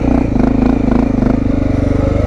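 A motorcycle engine throbs steadily and loudly close by as the bike pulls away in first gear, with a rapid even pulse and slight rise in revs.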